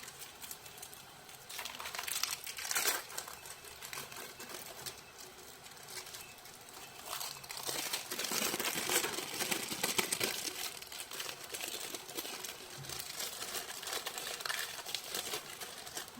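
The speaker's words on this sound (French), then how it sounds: "Et le fromage. Si j'arrive à l'ouvrir." Cheese packaging crinkles and tears as it is worked open in a kitchen while wraps and French tacos are assembled, with irregular rustling bursts close by and no talk.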